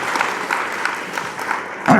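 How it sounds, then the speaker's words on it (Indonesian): An audience at a Muhammadiyah gathering in Surabaya applauds, a steady close patter of clapping lasting a couple of seconds. "Tepuk tangan untuk Kerembangan."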